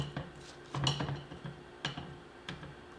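Spatula scraping chocolate crinkle cookie batter of eggs and vanilla around a mixing bowl, soft close scrapes and light clinks against the bowl in irregular bursts, quiet with no talk.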